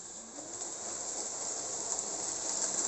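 Hornby SNCF 131TB 2-6-2 tank locomotive model train heading away, a steady faint hiss of running with a soft rail rumble, even and alone with no talk.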